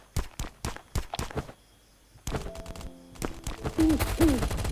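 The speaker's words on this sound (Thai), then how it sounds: "มีเสียงปืนครับข้างหน้าเรา" Gunfire from the Last Island of Survival survival game rings out in rapid bursts of sharp cracks, a quick cluster at first, then a pause, then denser shots mixed with other in-game noise.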